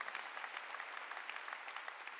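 Steady, fairly faint applause from a church congregation, many hands clapping together at an even density throughout without a clear peak or fade.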